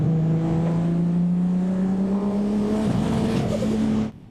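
A car engine pulls steadily under acceleration in second gear, its loud rising drone holding near and continuous, then briefly stuttering as boost cut hits around the three-second mark before the sound drops away abruptly at the end.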